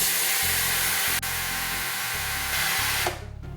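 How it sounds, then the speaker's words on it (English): An espresso machine's cool-touch steam wand, set to adjustable steam pressure, gives a loud, steady broadband hiss over a low pump hum, then cuts off abruptly near the end. "you can actually set the steam pressure from a really mild setting up to strong"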